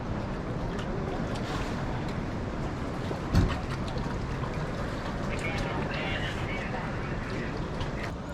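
A boat sits in the harbour at Nusa Penida, giving a steady low rumble with wind and water noise throughout and a brief louder knock partway through.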